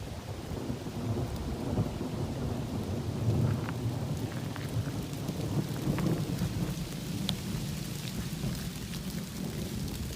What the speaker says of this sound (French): l'orage annoncé arrive